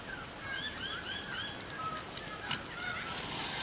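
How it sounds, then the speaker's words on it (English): A small pet bird chirps indoors in a quiet room, a few faint repeated high tweets in quick rhythmic bursts followed by scattered softer calls. "Oh, my little bird is chirping."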